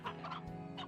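Chickens in the farming video game Slime Rancher give a short burst of close, repeated clucking, a few quick pulsed calls over a steady low background hum.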